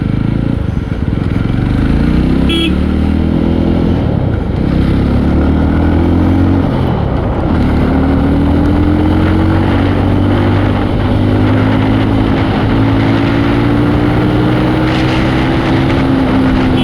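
A 2026 Yezdi Roadster top model is ridden on a hot Delhi road. Its loud engine drone rises through the gears with a few drops as it shifts, and wind rushes steadily past the bike.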